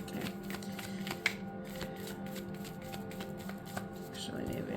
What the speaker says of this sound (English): maybe I'll put that one back and reshuffle